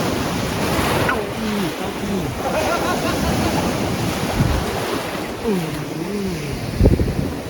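Strong ocean surf rolls onto a Rayong beach in Thailand, a continuous loud wash of breaking waves mixed with gusty wind noise on the microphone, while people talk nearby.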